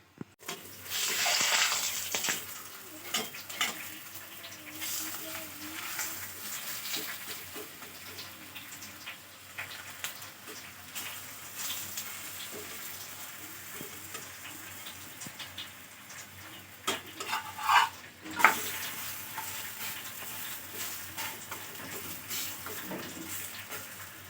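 Aloo paratha cooking on a pan, giving off a steady, faint, rain-like sizzle throughout, with a few clicks and scrapes from handling near the end.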